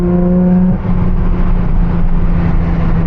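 Heard from inside with the windows up, a Porsche 992 GT3 RS fitted with an R1 Motorsport exhaust roars loudly, its engine note holding high then dropping off sharply into a deep, rumbling, crackling drone.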